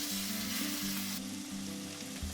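Avocado oil sizzles steadily in a preheated titanium Always Pan Pro, a dense, continuous crackling hiss that stays loud and even throughout with no talking.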